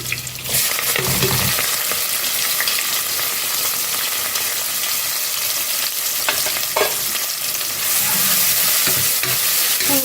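Crushed shallots frying in hot oil for chicken curry give a loud, close, steady sizzle that holds for the whole stretch, with a few scraping stirs breaking through.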